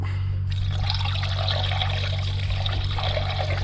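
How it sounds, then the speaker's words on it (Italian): Coolant pours steadily through a funnel into a Land Rover Td5 engine's cooling system with a soft gurgling trickle, close up, over a constant low mechanical hum. "e inizio a versare il liquido"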